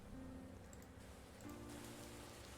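Background rain plays through a speaker as a soft, steady hiss of drops on a surface, faint and continuous, swelling slightly as the volume is raised partway through.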